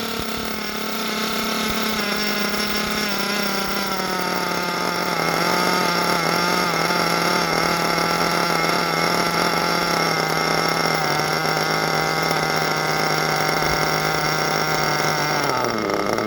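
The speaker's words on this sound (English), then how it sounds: "So let me go ahead and just lower this idle." Nitro engine idling at a high, buzzy whine as the idle is slowly lowered, its pitch gradually dropping over several seconds, then falling sharply near the end.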